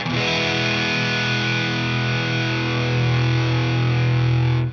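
A Wampler Dual Fusion overdrive pedal with channel 1 gain turned up, feeding more gain into channel 2: a sustained, saturated electric guitar chord ringing loud and steady, swelling slightly before stopping.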